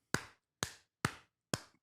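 Four sharp, evenly spaced hand claps ring out close and alone, each with a quick decay into silence.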